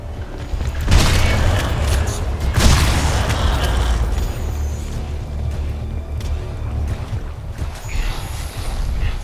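Shotgun blasts in the shooter game Crysis 2, two heavy booming shots a couple of seconds apart over a dense rumbling game soundscape, followed by continued low mechanical background noise.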